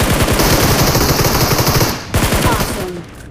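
Rapid automatic gunfire in a mobile battle royale video game, loud close bursts of shots in fast rhythm, a brief pause, then another shorter burst that trails off.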